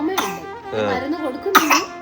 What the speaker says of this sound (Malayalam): എന്താ ഇപ്പൊ ചുമ വെച്ച്?